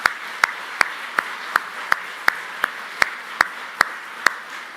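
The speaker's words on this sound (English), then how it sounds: "Let's give those guys a round of applause." Scattered claps ring out in a steady, sparse rhythm, about a dozen sharp hand claps spaced evenly, from an audience honoring United States military veterans at a live news event.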